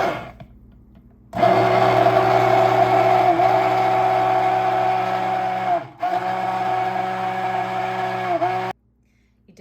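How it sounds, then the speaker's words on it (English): An immersion blender whirs steadily while mixing oils for homemade lotion, running loud and close for several seconds with a brief dip midway before cutting off. "I'm going to take my immersion blender and just make sure that all the oils are fully incorporated"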